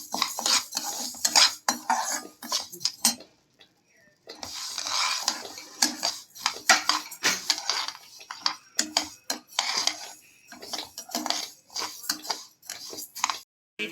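Fenugreek seeds stirred in a pan while they dry-roast, a steady run of close metallic spoon scrapes and clinks against the pan with brief pauses and no clear sizzle.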